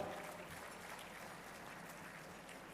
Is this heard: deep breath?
no